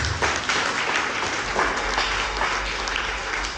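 A church congregation at an Anglican youth conference in Zanzibar applauds together, a steady wash of many hands clapping at an even, fairly loud level for the full stretch, with no voices over it.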